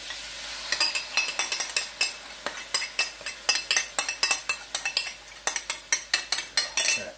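Shrimp lo mein sautéing in a pan as sauce goes in, a constant sizzle of frying under quick rhythmic scrapes and clinks of a utensil stirring against the pan, with no talking.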